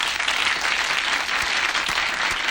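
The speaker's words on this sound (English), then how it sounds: "Let's all give Diana a really nice round of applause." A crowded audience at Carver High breaks into dense, continuous applause for Diana after her number. It is a loud, even wash of many hands clapping that holds steady the whole time with no voices on top.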